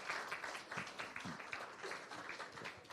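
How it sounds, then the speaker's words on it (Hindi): An audience applauds to welcome a hockey Olympian at a 'Thank you Doctor' program, a faint, steady patter of many hands clapping with no voices. "जोरदार तालियों से स्वागत कीजिए इनका।"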